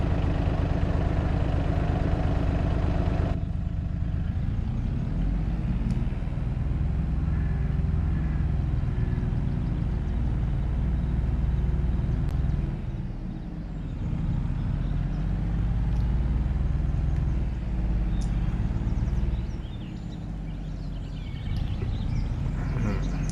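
A tractor engine runs steadily in Farming Simulator 22, a continuous low mechanical drone with a brief dip partway through, fairly loud and alone without talk.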